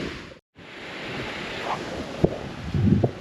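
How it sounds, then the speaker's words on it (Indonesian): Wind buffets the microphone on the beach at Pantai Teluk Awur as surf washes in during rain ahead of a storm, with a brief dropout early and a few gusty bumps toward the end. "Dan ini dia pantainya."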